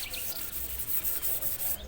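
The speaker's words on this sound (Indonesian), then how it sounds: "dari sini kita oles lagi pakai amplas yang lebih halus" A bidara wood walking stick is rubbed with fine sandpaper in quick, steady back-and-forth scratchy strokes, close and fairly loud, with no talking.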